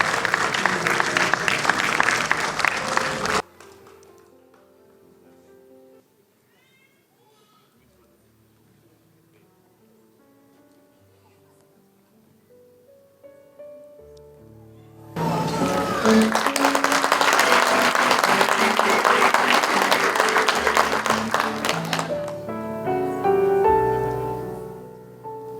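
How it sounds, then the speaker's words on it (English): An audience at a prize ceremony applauds the toppers. There are two loud bursts of clapping, one brief at the start and a longer one later, separated by a quiet stretch of soft melodic music. "We would like the audience to congratulate the toppers with a huge round of thunderous applause."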